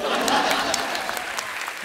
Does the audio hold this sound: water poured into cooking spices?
no